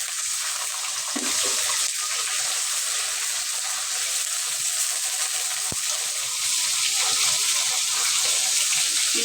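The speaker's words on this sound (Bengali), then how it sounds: "এখন হয়তো পানি দিয়ে দিলাম" Water pours into a hot pan of fried onions, a steady rushing hiss that swells at the start and again near the end. A single sharp tap cuts through midway.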